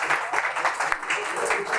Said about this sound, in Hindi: जरा रिस्पेक्टफुली तालियां बजाएंगे जी।